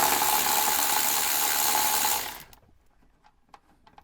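A power tool drives out 10mm bolts from the rear side trim panel of a Land Rover Defender L663 90 cargo area, running as a steady close whir for about two seconds before winding down into quiet handling clicks.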